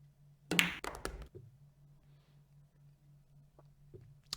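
In Virtual Pool 4, a cue strikes the ball with a sharp tap followed by quick clacks of balls colliding, then a couple of faint knocks later against a low steady hum.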